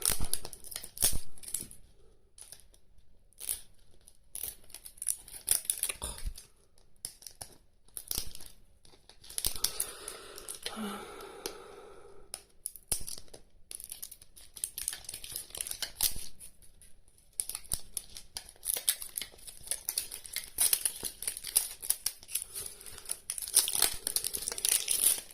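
Crinkly plastic packaging of Mini Fashion Brands toys is opened and torn, with irregular close crackles, rustles and sharp snips coming in busy bursts and short pauses.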